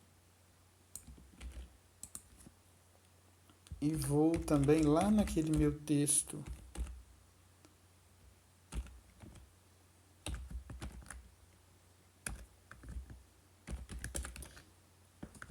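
Rapid bursts of computer keyboard typing clatter close to the microphone, broken by pauses, while someone speaks Portuguese around and between the keystrokes.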